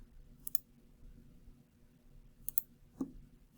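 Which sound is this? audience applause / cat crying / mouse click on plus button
mouse click on plus button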